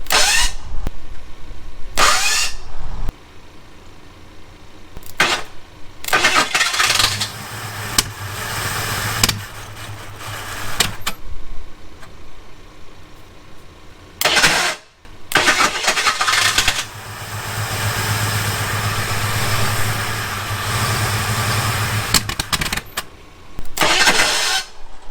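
An abandoned Ford Thunderbird's engine cranks repeatedly without catching because of no fuel pressure. Loud, close starter whirring comes in several long bursts separated by short pauses, with no talking.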